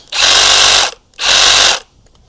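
A Milwaukee Sawzall reciprocating saw runs loudly in two bursts of just under a second each, a dense, buzzing motor roar that stops abruptly between the runs.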